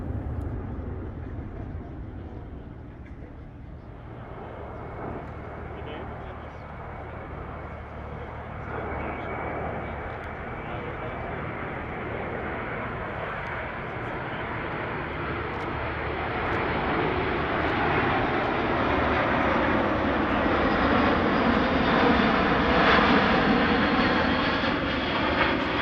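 A C-17 Globemaster military transport jet flies past at the Australian International Airshow, its engines a broad, continuous roar that swells louder toward the end as the aircraft draws nearer.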